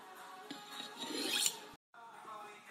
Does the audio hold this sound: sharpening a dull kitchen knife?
yes